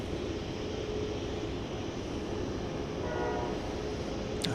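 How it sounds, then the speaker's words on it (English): A distant train whistle at Dallas Love Field sounds faintly as a brief tonal call near the end, over a steady wash of airport and traffic rumble. "I hear the lonely train whistle."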